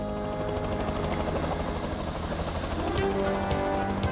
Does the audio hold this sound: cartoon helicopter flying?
yes